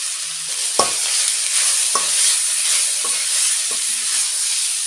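Onion, ginger paste and tomato sauté in a pan with a steady, close sizzle, broken by about four sharp scraping strokes of a spoon stirring through the mix, and no voice.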